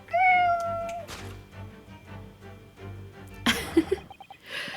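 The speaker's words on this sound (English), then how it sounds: "Your kitty cat." A cat in The Great Ace Attorney gives a clear, close meow at the start, followed by background music with a brief burst of game sound effects later.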